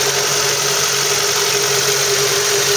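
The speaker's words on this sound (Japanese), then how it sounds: "全く不安のないエンジンの安定感が分かると思います" A Toyota AE86 GTV engine, freshly rebuilt with a new head gasket, idles in a steady, even drone with no misfire or wobble, running close and continuous alone for the whole span.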